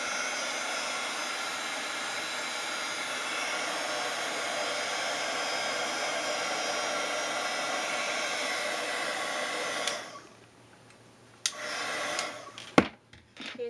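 A heat tool melts embossing powder on a craft project, giving a steady, loud, hair-dryer-like whoosh for about ten seconds before cutting off, followed by a few small clicks and handling noises.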